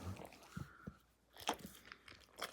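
A dog crunches and bites on a treat in a few short, sharp bursts close by, while a person speaks softly in Korean between the chews.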